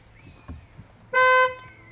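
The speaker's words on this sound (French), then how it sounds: "je dis qu'il klaxonne devant là." A car horn gives one loud, sustained honk of about a third of a second, sounding close amid quiet street background with faint voices.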